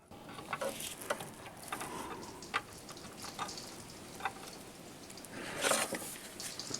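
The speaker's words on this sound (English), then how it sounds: "I don't know if you can hear that weather outside, but it is horrendous and it's hail." Hail pelting down outside a garage in winter weather, a dense continuous patter with irregular louder clatters and a heavier burst near the end, heard from indoors.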